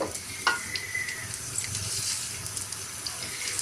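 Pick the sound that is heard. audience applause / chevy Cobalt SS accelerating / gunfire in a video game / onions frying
onions frying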